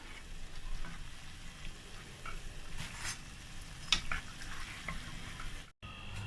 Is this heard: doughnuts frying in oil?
yes